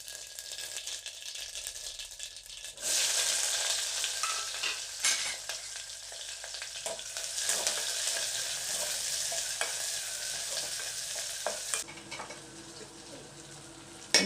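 Mustard seeds, cumin and then onions fry in hot oil in a pan, a close, steady sizzle that swells louder after a few seconds, with stirring rattles and no speech.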